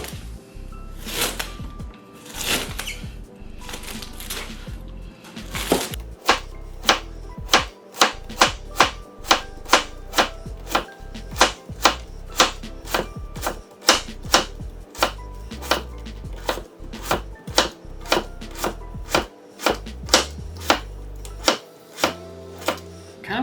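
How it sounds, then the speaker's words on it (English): A knife thinly slicing food on a cutting board, a few slower cuts then a long run of quick, even, crisp taps, close and distinct, with no talking. "I'm gonna do it really thinly sliced"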